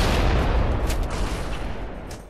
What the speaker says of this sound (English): One way to make an impact is to utilize an explosion in order to gain more distance with a jump.